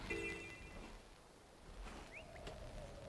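A telephone rings for a work call during gameplay, its bright electronic tones repeating in a short burst near the start, then trailing off into faint background noise and sweeping game sounds.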